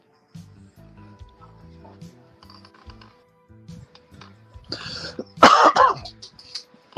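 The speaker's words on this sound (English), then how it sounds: "you've been coughing for like a month" A voice talks quietly at first, then a harsh burst of coughing and throat clearing erupts loudly near the end.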